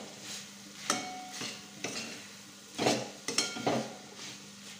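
Bitter gourd curry being stirred with a spoon after coriander is added, giving several distinct scraping strokes against the pan with a light sizzle underneath, close and moderately loud, no voices.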